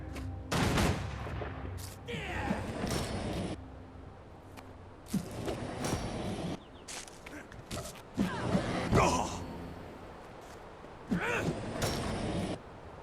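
Soldiers' rifle volleys in Guild Wars 2, several bursts of sharp overlapping gunfire spread across the span, close and loud with mechanical clatter between shots and no talk.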